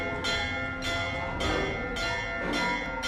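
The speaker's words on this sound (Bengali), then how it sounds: "মঠের বেলঘর থেকে এবার ঘন্টাটা বেজে উঠল জোরে জোরে।" A monastery bell rings loudly from its bell tower, struck again and again in an even rhythm, each ring leaving a long, humming resonance that overlaps the next.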